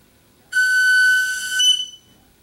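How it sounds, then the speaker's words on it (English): An eagle whistle is blown in a single loud, piercing, sustained tone lasting about a second and a half, rising slightly near the end before cutting off, heard alone against quiet background. "So blow the eagle whistle in that way"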